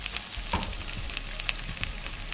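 Cut pumpkin and other vegetables, including potato and eggplant, frying in a pan for a Bengali pui shak chingri chochhori, giving a steady close sizzle with small crackles and pops throughout.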